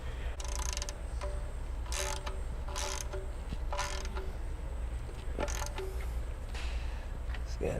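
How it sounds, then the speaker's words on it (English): A new oil filter being hand-threaded onto a Nissan 350Z engine, producing repeated ratcheting, clicking mechanical turns in short bursts over a steady background hum. "when you put the new one on, you can just kind of thread it on there and get it down to the base"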